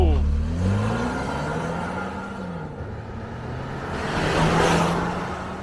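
A 246-horsepower turbocharged Range Rover Evoque launches hard from a standstill, its engine note climbing steadily as boost builds, a long first gear pulling before a shift, with people talking in the cabin over it.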